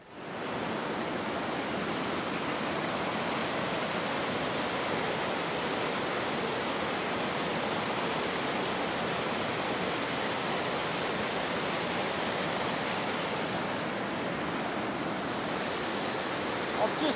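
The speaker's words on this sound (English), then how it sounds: "there's a stonking great waterfall here in front of us" A large waterfall on a river in the Tasmanian bush sends up a dense, constant roar of rushing water. The sound is loud, steady and unbroken from start to finish.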